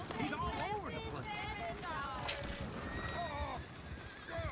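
Horses neighing and whinnying as they pull a runaway coach in Red Dead Redemption 2, their cries rising and falling over galloping and clattering, with people shouting and talking on top.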